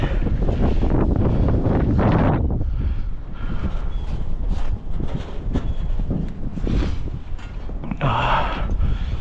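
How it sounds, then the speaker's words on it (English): Strong wind buffets the microphone high up at an abandoned acid factory, a loud, constant roaring rumble with gusty surges throughout, no voices heard. "Don't like this wind at all."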